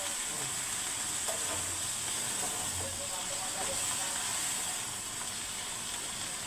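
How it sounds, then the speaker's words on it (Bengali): Cabbage frying over a high flame for a chicken-skin dish, giving a steady, dense sizzle and hiss that runs evenly throughout without pause, fairly close and moderately loud. "চুলার জাল হাই স্পিডে বাড়িয়ে দেব যাতে এগুলো সিদ্ধ হয়ে যায়"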